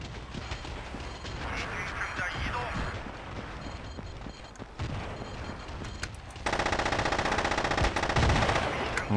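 Machine gun fire in the Battlefield 2 video game, scattered distant shots over a busy battle din, then a sustained rapid-fire burst rattling loud and close through the final seconds.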